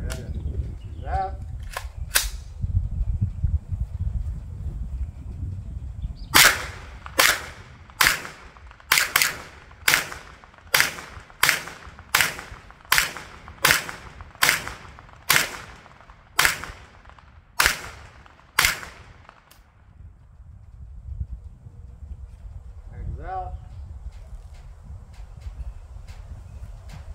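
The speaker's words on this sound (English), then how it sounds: "We're going to send some rounds down range." A string of about fifteen sharp gunshots rings out as rounds are sent down range at a target roughly 10 to 12 yards away while checking a red dot sight's zero, evenly spaced and loud, with brief talk before and after.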